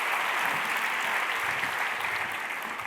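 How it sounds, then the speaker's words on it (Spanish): Sustained applause from an audience at a talk on future materials, dense and steady throughout, with no speech over it. "Quiero que le deis un fuerte aplauso."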